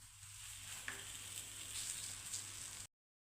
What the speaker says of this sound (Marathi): आता ही पोळी हलक्या हाताने तव्यावर टाकून घ्यायची आहे.